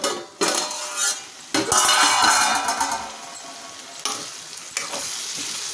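Ivy gourd (tindora) fries in a covered pan, crackling loudly in bursts as it is stirred, with metal utensil clinks and scrapes against the pan between quieter stretches.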